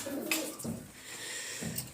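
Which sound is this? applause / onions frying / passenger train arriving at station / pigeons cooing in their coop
pigeons cooing in their coop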